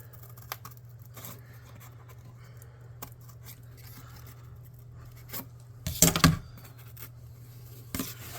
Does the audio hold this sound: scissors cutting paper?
yes